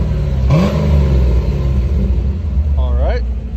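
A stock 1990 Chevrolet Corvette C4 with its 5.7L V8 idles with a steady, loud low rumble and swells into one brief rev near the start, with a short voice chiming in toward the end.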